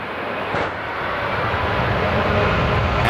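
A Boeing airliner keeps flying after a bird strike, its engines giving a steady, loud broadband roar that builds slightly over a few seconds, with no talk.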